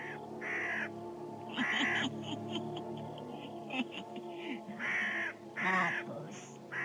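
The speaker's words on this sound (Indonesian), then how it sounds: "Cepat berikan burung gagak itu padaku." A black crow cawing in repeated harsh calls, several bursts close by, over a background of voices and other layered sound from a dramatic mystic series scene.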